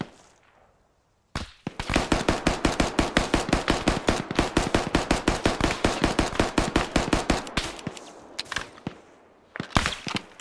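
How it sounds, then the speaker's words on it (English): Sustained automatic gunfire from a .45 ACP weapon in the video game Arma 3 Antistasi, a long rapid string of sharp loud shots, then a pause and a few more scattered bursts, with no talking. "I'm firing 45 ACP"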